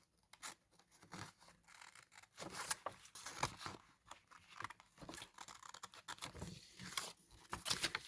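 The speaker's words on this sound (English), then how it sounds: "Sorry for this noise and rustling." Scrap paper crinkles and rustles close up while being handled and cut with scissors, with irregular bursts of crackling, snipping and rubbing that come and go at a fairly quiet level.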